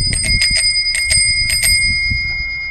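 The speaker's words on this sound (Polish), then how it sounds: "Standardowy dzwonek." The standard bell on a 1988 Romet Jubilat 2 bicycle rings in a loud, close series of bright metallic dings, several quick strikes grouped in pairs and triplets.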